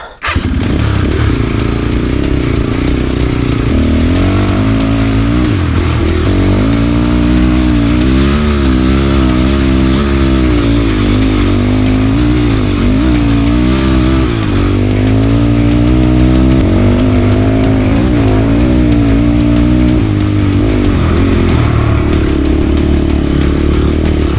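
A motorcycle with a 172FMM engine and a carburetor running without an air filter is being ridden. Its loud, close engine drones continuously and rises and falls as the throttle opens and eases across the whole stretch.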